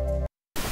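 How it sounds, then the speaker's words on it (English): Pink noise used as a walkie-talkie radio effect bursts in loud and steady, breaks into a short silence, then returns, following a brief tonal fragment. "All right, so that is pink noise."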